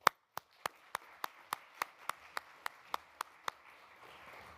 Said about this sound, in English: I would give a round of applause to all of you